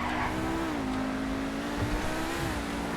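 A Pegassi Torero XO supercar engine in GTA 5 drones steadily, its pitch dipping and rising with throttle changes over road noise, loud and continuous without speech.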